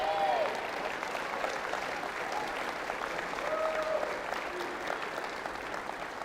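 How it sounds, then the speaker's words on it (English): Sustained audience applause fills a hall at a Faulkner University debate event, a dense, even wash of many hands clapping throughout, with a faint voice briefly rising above it. "Let's give President Henry a round of applause."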